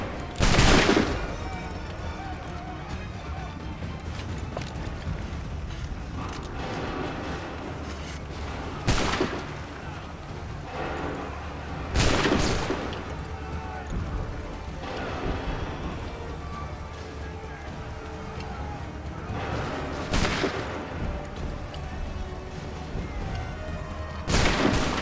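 Musket volleys in Assassin's Creed III crack out in loud, booming bursts every few seconds over a dense battlefield din, with voices shouting in between.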